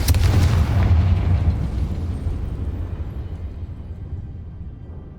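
A loud Confringo spell explosion from the Hogwarts Legacy video game, one heavy booming blast that rolls and decays into a long fading rumble.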